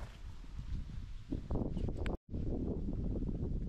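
Strong wind buffets the microphone with a steady low roar and rough gusts, briefly cutting out for a moment before resuming.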